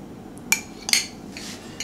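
Spoon scraping and clinking against a bowl while avocado salad with paprika is stirred, a few sharp separate clicks and scrapes, close and fairly quiet.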